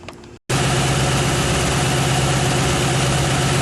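After a brief pause, a 2006 Mustang GT V8 engine with a cold air intake kit starts and settles into a loud, steady idle with a deep, rumbling throb throughout.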